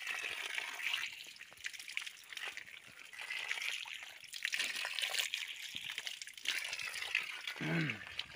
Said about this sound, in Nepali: यहाँ धाराको पानी छ,